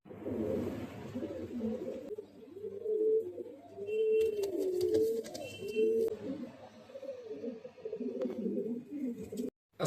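Red European toy Lahori fancy pigeons coo in a loft, giving a continuous overlapping chorus of deep, rolling coos close by, with faint metallic clinks in the background.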